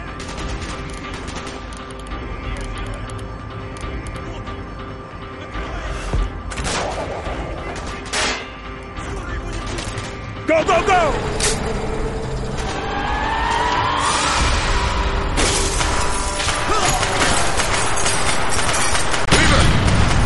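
Gunfire from the Call of Duty: Black Ops video game comes in scattered bursts and single cracks, mixed with vehicle engine roar, crashes and a swelling battle din that grows louder toward the end.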